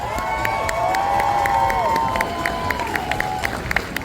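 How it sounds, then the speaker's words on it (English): Audience at a Monster Mania horror convention costume contest in Cherry Hill, NJ, clapping and cheering in a steady burst of applause with scattered whoops and shouts. "first let's have a big round of applause for everyone in this category"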